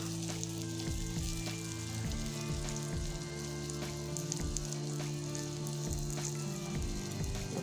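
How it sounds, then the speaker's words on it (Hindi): Burger patties frying in a pan, a steady close sizzle throughout with occasional low bumps from pressing or handling, no talk. "जैसे ही टिक्कियाँ फ्राई होंगी"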